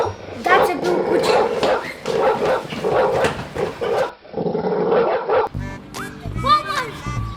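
A voice imitates a dog, giving repeated yips, barks and growls amid lively, loud speech from several people in a comedy show scene.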